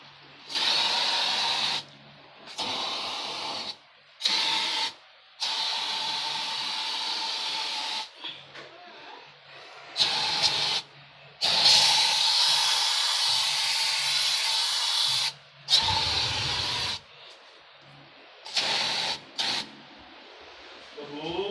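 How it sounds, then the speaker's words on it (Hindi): Insecticide is sprayed inside a house against dengue mosquitoes, making loud close hissing bursts of a few seconds each. The bursts repeat in an irregular rhythm with brief quiet gaps and faint voices. "जी हमने स्प्रे कर दिया, अब हम घर बंद कर लेंगे।"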